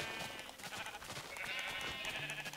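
Sheep in the Minecraft video game bleat repeatedly in a wavering, nasal tone, fairly loud and close, over a busy background of game sounds.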